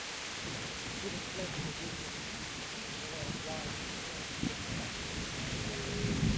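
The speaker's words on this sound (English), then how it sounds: "This storm is a sign from God." A thunderstorm in the medieval role-playing game Kingdom Come: Deliverance, with steady heavy rain hiss and low rumbling thunder, while a voice speaks faintly underneath.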